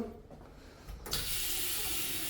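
Shower water in an apartment bathroom starts running after a brief quiet moment, then a steady, close hiss of spraying water continues alone.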